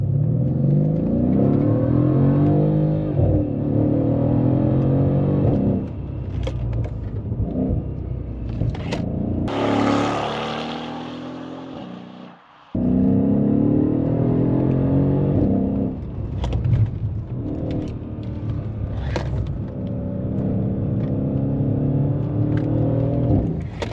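A Mercedes-Benz S800 Brabus coupe pulls away in manual sport mode, its engine roaring loud and close through rising revs, with a brief drop during a gear change before the deep rumble surges again.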